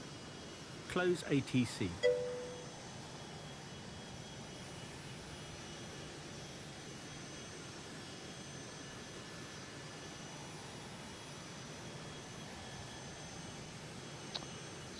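An Embraer Phenom business jet in Flight Simulator 2020 gives off a steady, even engine drone on the runway at St-Hubert Airport, Montreal. Someone speaks briefly near the start.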